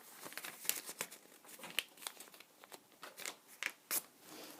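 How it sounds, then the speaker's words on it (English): A sheet of paper is folded in half from left to right, giving close, quiet, irregular crinkles and soft creases over several seconds with no talking. "fold it in half from left to right"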